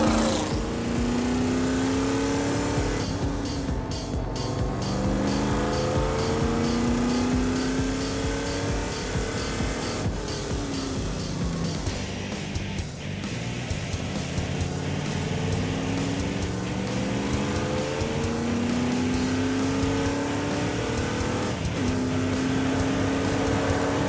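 A car at speed on the Laguna Seca race track, its loud engine droning continuously with rising and falling pitch as it accelerates and shifts, near and steady throughout with no talk.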